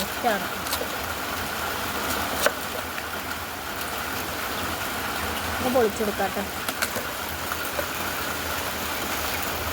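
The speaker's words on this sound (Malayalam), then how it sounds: "മഴയുടെ ശബ്ദം കാരണം കേൾക്കുമെന്ന് അറിയത്തില്ല." Steady rain falls outdoors in a dense, even hiss, with someone talking over it now and then.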